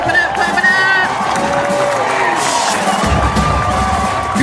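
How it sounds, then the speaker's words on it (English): Audience at a talk on the reparations movement claps and cheers as a speaker is brought out, a loud, dense crowd roar with whoops and shouts that swells and stays full throughout. "Clap it up, clap it up."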